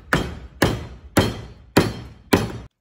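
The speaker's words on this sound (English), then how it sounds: "The hammer almost always works." A hammer strikes the starter solenoid on a 1976 SeaRay boat five times at an even pace, each a sharp metallic knock that decays quickly, close and alone.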